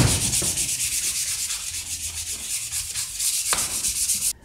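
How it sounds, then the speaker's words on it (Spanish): Steady, close rubbing of fine 400-grit sandpaper across a wooden picture frame, a continuous hiss with slight stroke-to-stroke swells and no talk. "Con esta lija lo que hacemos únicamente es ir asentando lo ya lijado."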